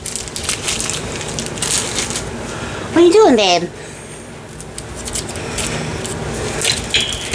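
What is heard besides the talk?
cat playing with dead leaves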